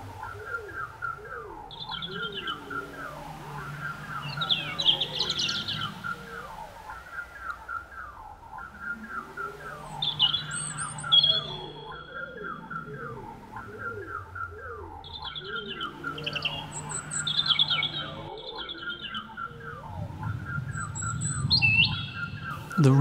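Birds chirp and tweet in repeated short bursts throughout, layered over steady, sustained tonal sounds and a low rumble.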